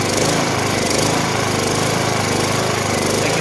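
A Honda EU2000i generator engine runs steadily and loudly up close, a continuous broadband engine drone with a faint rhythmic fluctuation, heard alone without voices.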